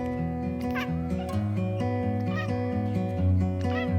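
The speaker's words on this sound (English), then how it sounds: "This cat answered her owner so confidently" A cat gives several clear, drawn-out meows in reply to its owner, close and fairly loud, spaced across a few seconds with a faint hum underneath.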